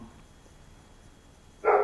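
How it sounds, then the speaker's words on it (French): A pet dog gives a single short bark in the background of a quiet indoor room, brief and moderately faint. "désolé si vous entendez les aboiements, c'est mon chien."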